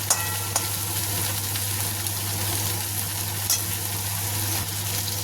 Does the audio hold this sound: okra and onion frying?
yes